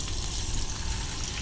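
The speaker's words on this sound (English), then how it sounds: "so we hear a sear, so that is actually hot enough skillet" Bass fillet searing in a hot skillet with olive oil, giving a steady, dense sizzle of frying, close and constant throughout without speech.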